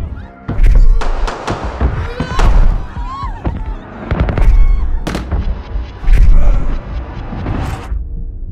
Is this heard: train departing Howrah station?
no